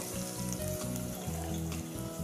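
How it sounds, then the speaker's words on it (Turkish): Chopped onions sizzle steadily in hot olive oil, a continuous crackling fry with a constant low hum underneath. "Onun içerisinde soğanı iyice pembeleşene kadar kavuruyorum."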